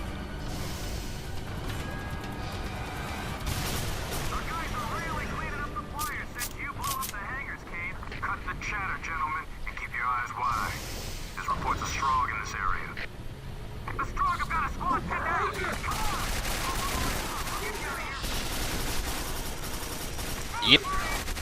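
Enemy gunfire during an on-rails section of Quake 4 crackles on and off as repeated bursts, at moderate loudness, with someone talking over much of it.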